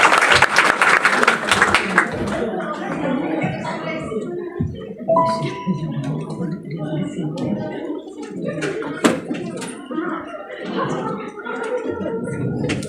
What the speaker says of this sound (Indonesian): tepuk tangan sekali lagi untuk PT Rohto